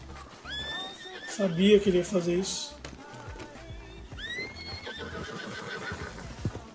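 Horse in Red Dead Redemption 2 neighs and whinnies loudly, with rising harmonic calls near the start and again mid-clip, over hoof clip-clop and in-game sounds while someone talks throughout.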